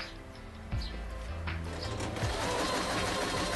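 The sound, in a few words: Kreshay sewing machine sewing in reverse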